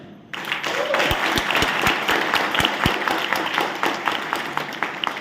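A lecture audience at an MBA talk breaks into loud sustained applause, dense clapping from a large crowd that starts abruptly after a short pause and continues to the end.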